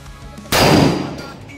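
A single sharp gunshot from a gun being test-fired cracks out loud and close, then rings away briefly into the quiet that follows.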